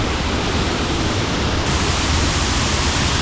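Roaring waterfall heard up close, a dense, loud, unbroken wash of falling water with no pauses and no voices.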